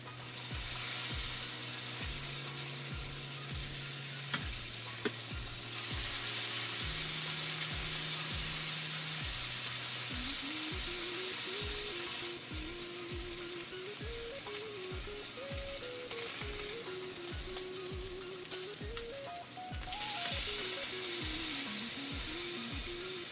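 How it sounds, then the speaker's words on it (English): A sous vide sirloin tip roast sears in a hot pan, giving a loud, continuous, bright sizzle that runs without a break for more than twenty seconds and swells and eases slightly, with a steady low hum underneath. "going to sear each side for 1 minute"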